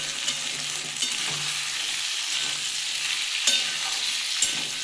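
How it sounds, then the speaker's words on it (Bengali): Potatoes and tomatoes with turmeric and salt fry in a covered pan for a cauliflower-potato posto, giving a constant close sizzle broken by occasional stirring scrapes and light clinks, with no talking. "আমি চাপা দিয়ে ভালো করে আলু আর টমেটোটা ভেজে নেবো"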